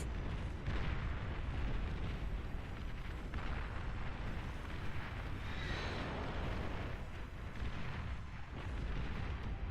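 In the Beyond All Reason real-time strategy game, a large unit is destroyed amid a battle, a dense, continuous roar of booming explosions and artillery fire that stays loud throughout, with no voices over it.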